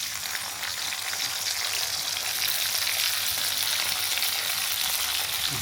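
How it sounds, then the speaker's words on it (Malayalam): Food sautéing in a pan until golden brown, with salt added, gives a steady, even sizzle and crackle that runs without pause at a moderate level. "നല്ല ഗോൾഡൻ ബ്രൗൺ ആവട്ടെ. അതുവരെ അങ്ങോട്ട് വഴറ്റുക."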